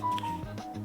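A phone notification chimes, a short, clear tonal ping ringing out alone for under a second.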